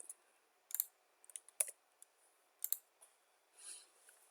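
A computer mouse clicks close by: a handful of sharp, crisp taps scattered irregularly over a quiet background, with no voice.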